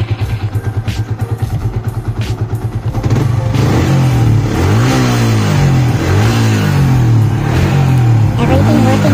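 Yamaha FZ150 motorcycle engine, on a bike with a bent fork, idles in rapid pulses, then revs up hard and holds a loud, wavering high rev with repeated rising and falling sweeps, close by.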